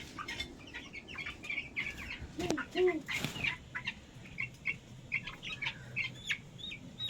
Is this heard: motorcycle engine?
no